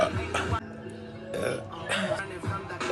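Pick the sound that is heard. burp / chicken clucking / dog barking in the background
burp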